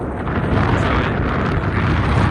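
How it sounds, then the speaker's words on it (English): Strong wind buffets the microphone in a continuous low rumble on a wetland hike in the Peak District, gusting steadily throughout. "Oh, it's windy."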